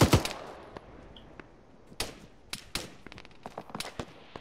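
Arma 3 cover fire: a loud close shot opens, then scattered sharp gunshots and short bursts crack at irregular intervals, some nearer and some more distant, with no voices.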